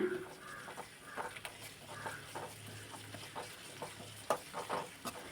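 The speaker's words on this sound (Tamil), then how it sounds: "இஞ்சி பூண்டு பேஸ்ட் பச்சை வாசனை போகிற வரலாம் நல்லா வதக்கி விடுங்க" Ginger garlic paste frying with onions in a pan for a mushroom gravy, giving a quiet, steady sizzle with a few scrapes and stirring clatters, faint and close.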